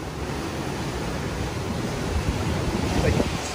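Ocean surf washes into a beach cove in Puerto Escondido, a continuous broadband roar mixed with wind noise on the microphone, building slightly toward the end.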